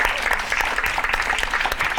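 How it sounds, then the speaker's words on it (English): Audience members stand and applaud themselves at the closing ceremony of a conference event, a dense, sustained wash of many hands clapping close by, with no voices over it. "So if we can stand and give ourselves a round of applause, thanking ourselves for sharing and joining."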